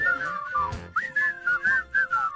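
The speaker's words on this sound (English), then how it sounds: "You guys want to whistle? You can." Whistling carries the melody of a radio show theme song, a bright wavering tune of short repeated phrases over quieter music, fairly close and clear.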